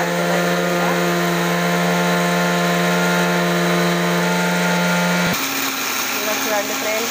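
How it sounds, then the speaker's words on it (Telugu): An electric mixer grinder whirs loudly while powdering flax seeds, a steady high motor drone with harmonic hum that cuts off abruptly near the end, leaving a rougher, quieter background. "మిక్సీ అయితే పడుతున్నాయి."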